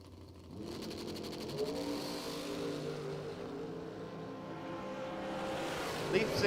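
A Corvette drag racing at a bracket racing event, its engine note rising steadily as it accelerates, heard at a distance through a continuous roar.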